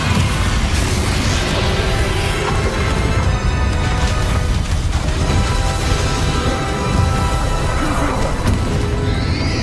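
Confringo blast spells burst in a Harry Potter battle game, loud crashing impacts and booms piling up over a thick, continuous wash of combat noise with no pause.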